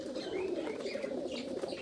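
Soft, low cooing of pigeons in a netted coop murmurs steadily throughout, with a few faint higher chirps over the top.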